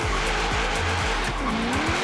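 A Chevrolet Camaro SS on very wide tires, stock suspension, spins and squeals its tires in Forza Horizon 3: a loud, continuous engine roar with sustained tire screech and shifting pitch throughout.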